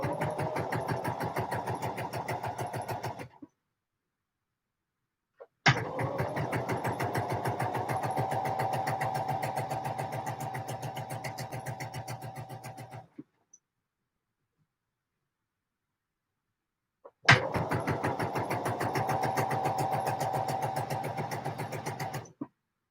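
A sewing machine runs in three sustained bursts while a Vogue 9345 garment is sewn, with steady rapid stitching and clear silent gaps between runs.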